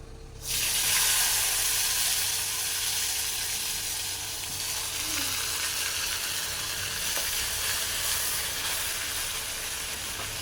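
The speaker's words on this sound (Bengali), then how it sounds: "তেলটা গরম হয়ে গিয়েছে এখন দিয়ে দেবো পেঁয়াজ বাটা" Onion paste sizzles loudly in a pan of hot oil, a steady close-up crackling hiss that begins within the first second and holds almost unchanged to the end, with no voices.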